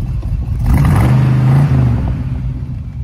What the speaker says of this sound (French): je vais vous le démarrer. Fait un joli petit bruit, un beau V8.